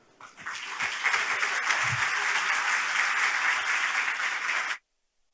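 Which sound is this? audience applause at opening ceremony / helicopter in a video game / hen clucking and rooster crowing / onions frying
audience applause at opening ceremony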